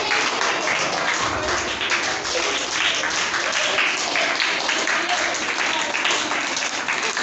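Schoolchildren clap together at a school Children's Day celebration. The applause is sustained, even and fairly close, and a faint voice rises now and then beneath it.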